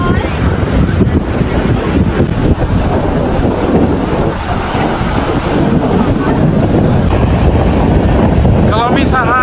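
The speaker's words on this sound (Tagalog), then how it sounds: "Kalami sa hangin." Steady, heavy wind buffeting the microphone outdoors by the sea, with a broad continuous roar and faint water sounds underneath.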